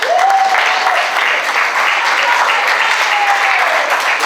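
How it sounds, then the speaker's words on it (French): A church congregation claps to acclaim the Lord after a wedding, giving steady, dense applause throughout with a few whistles over the top. "On peut acclamer le Seigneur."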